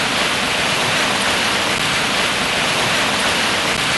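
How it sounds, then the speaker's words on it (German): Treated water pours out of a wastewater treatment plant toward the Diemel river, a steady, loud, dense rush with no breaks or pauses. "Dies ist das Wasser, was zum Diemel geht,"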